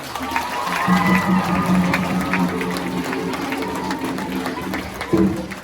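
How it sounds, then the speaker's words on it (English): Elementary school audience clapping for a high school drum ensemble, with a dense patter of applause and crowd chatter at moderate level, plus a steady mechanical hum underneath. "Give them a round of applause."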